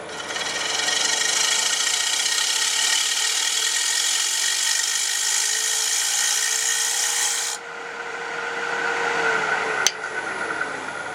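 Hand card scraper drawn across a wooden workpiece, lifting curly shavings, a long steady close rasping scrape that ends abruptly, followed by quieter scraping and a brief click.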